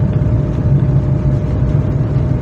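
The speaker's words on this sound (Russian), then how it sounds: "трактор." A tractor passes along a rural road near a village, its low, steady engine rumble filling the scene at an even loudness from start to finish, with no voices.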